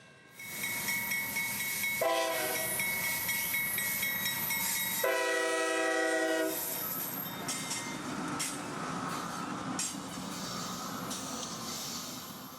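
Diesel locomotives running light without a train rumble steadily past a rail yard with a loud engine drone, sounding their horn in two long blasts partway through.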